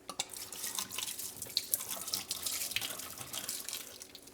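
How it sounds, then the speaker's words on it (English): Two bottles of Bud Light Lime beer glug and splash as they are poured down a sink, a close, continuous gurgling stream with drips and no talking. "2 bottles of Bud Light Lime. Guess what? I'm pouring them out."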